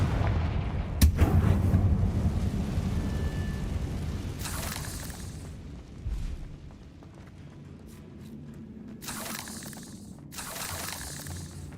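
A fiery blasting spell explodes in a Hogwarts Legacy fight, opening with a sharp boom and rolling rumble, followed by further bursts and crackling blasts, loud and close, no talk over it.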